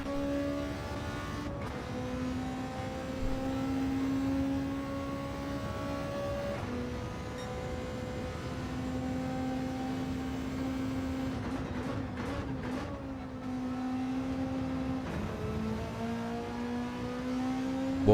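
Volkswagen Beetle race car in a racing video game, its engine droning steadily and loudly, with pitch dropping at several gear shifts before climbing again. No one talks over it.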